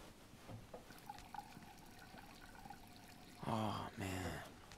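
Running water in Life is Strange 2 as a character washes his face, a faint steady trickle under the game's ambience, with game dialogue heard near the end.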